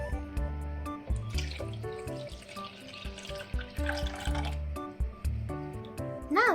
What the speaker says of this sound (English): Now I'm going to pour my water inside my mixer.